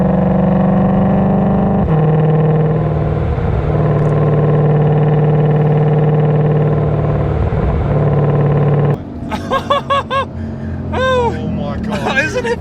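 A 2020 Shelby GT500 pulls hard in second gear, its engine a loud, rising drone with a brief shift-like dip, then excited voices take over as the roar fades into the background.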